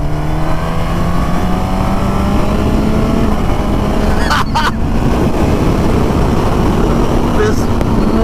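A 2024 Suzuki Katana motorcycle engine runs loud and close with a constant rumbling roar and strong wind-like noise, holding steady throughout.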